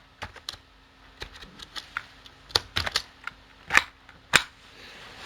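Typing on a computer keyboard while writing an HTML image tag, a close series of irregular key clicks with a few sharper, louder taps, no talking.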